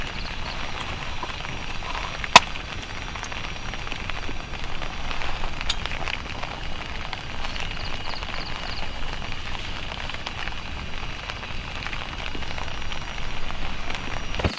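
Rain falling outdoors at night around an abandoned clubhouse near a coast guard station, a continuous soft wash of noise with one sharp click and faint knocks, no talking.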